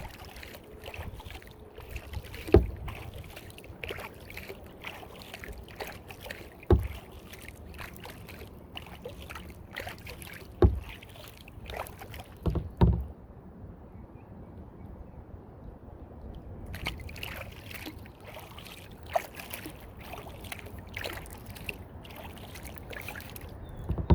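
A narrow kayak paddled across a mill pond, with soft, rhythmic paddle strokes and splashes spaced a few seconds apart, set against steady wind buffeting the microphone and water lapping close by.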